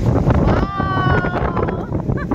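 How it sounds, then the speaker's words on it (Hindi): Strong wind blows outdoors, buffeting the microphone with loud low gusts, while someone talks briefly over it. "बहुत बढ़िया हवा चल रही है आज,"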